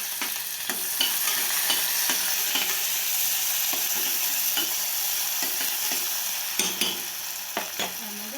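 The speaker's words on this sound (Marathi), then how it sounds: "तडतडले, गॅस बारीक घ्या।" Mustard and cumin seeds crackle and pop in hot oil, a dense steady sizzle with sharp scattered pops throughout, close and fairly loud with no voices.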